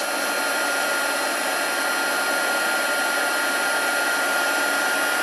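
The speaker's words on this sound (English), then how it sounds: "heat tool heated" An embossing heat gun blows hot air in a constant, loud, even whoosh that holds steady without pause from start to finish.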